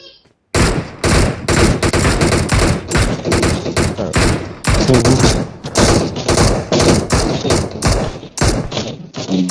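Gunfire in PUBG Mobile: rapid, loud bursts of automatic shots in a dense, near-continuous rattle with brief gaps, punctuated by heavier thuds.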